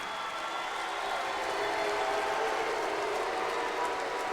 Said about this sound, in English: we should give Colin a round of applause for just making it out here tonight